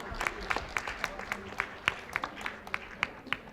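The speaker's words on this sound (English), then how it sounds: "Big applause." Scattered, sparse clapping from an audience at a women's leadership forum: a handful of distinct hand claps at a steady rhythm over about three and a half seconds, fairly faint in a large room.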